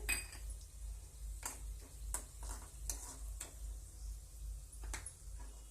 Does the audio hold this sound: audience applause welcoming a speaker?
no